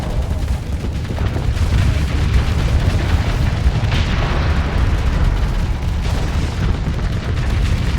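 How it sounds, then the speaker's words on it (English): Dragonfire torpedoes exploding in the space combat game Starsector, a dense continuous rumble of booming blasts and bursts mixed together at high level. "Hope to see the Pegasus launching Dragonfire in a second here."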